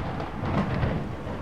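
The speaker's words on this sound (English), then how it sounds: "The thunder, oh boy." Rolling thunder rumbles loud and deep through a stormy scene in The Joy of Creation video game, a continuous low roar with rain hissing beneath it.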